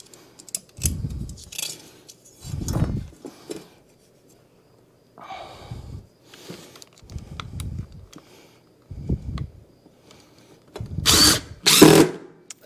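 A power drill drives screws into a stair nose over vinyl plank flooring in a hallway, firing in several separate bursts of a few seconds each with short pauses between, close and fairly loud with no talk.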